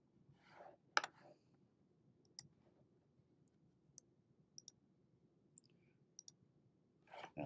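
Mouse clicks made while alt-clicking to clear notes in Photoshop: a few sharp, sparse ticks at uneven intervals, mostly faint, over quiet background hiss with a couple of soft breathy noises.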